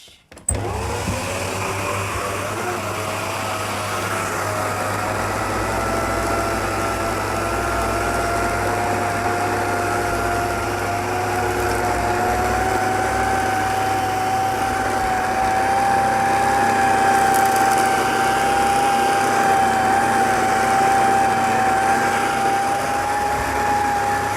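An Electrolux canister vacuum cleaner switches on and runs for over twenty seconds with a steady, loud whine and motor hum that stays constant throughout, no voices over it.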